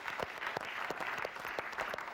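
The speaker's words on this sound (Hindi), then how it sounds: "हमारे नए प्रतियोगी के लिए जोरदार तालियां" Studio audience applause greets new contestant number 8 on a Hindi TV game show: a steady, dense burst of many hands clapping that carries through the whole stretch without letting up.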